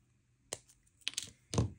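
Dead soft square copper wire being cut while wrapping a teardrop stone: a few small, sharp, close snips and clicks spaced over a moment, with no talk.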